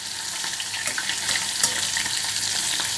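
Halloumi cheese slices fry in a pan with a loud, steady, crackling sizzle and occasional small pops and scrapes as the pieces are turned.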